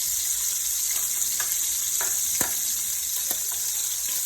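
Shrimp fry in a hot pan with a dense, continuous bright sizzle, punctuated by a few soft pops and spatters, close and steady throughout, with no talking.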